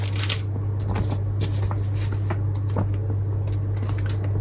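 A set of MBS tarot cards from a mind-body-spirit magazine delivery is handled up close, with quick, papery rustles and light flicks over a constant low electrical hum.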